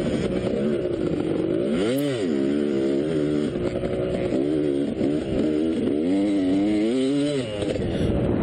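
A dirt bike engine at a hare scramble race howls and surges as its throttle sticks, its pitch rising and falling in rapid repeated revs, loud and close throughout.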